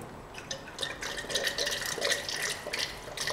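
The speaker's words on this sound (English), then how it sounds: "I go ahead and start pouring it down there. So that hot water is going down the barrel" Hot water poured down the barrel of a Mosin rifle into a sink drain, a steady trickling splash with dripping patter, close and fairly quiet, with no voices.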